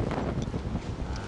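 Strong wind on the Faroe Islands buffeting the microphone in a continuous low roar, loud and close, with no voices.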